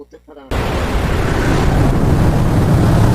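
A boat rides a stormy sea in a horror video game, a loud continuous roar of crashing waves and wind filling everything after a brief moment of quieter sound at the start.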